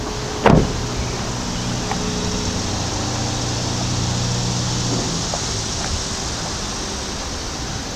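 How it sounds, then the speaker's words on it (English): A seat in a 2020 Volvo XC90 slides back into place inside the cabin, a soft steady mechanical whir beginning with a brief click and running several seconds at close range, with no voices. "Sliding the seat back into place is actually quite easy."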